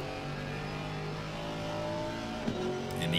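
A Mercedes AMG GT4 race car roars in a racing video game at Donington Park, its engine note holding steady and close with a slight rise near the end and a brief tire sound, no voices.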